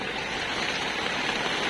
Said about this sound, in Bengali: ঝড় বৃষ্টি এসছে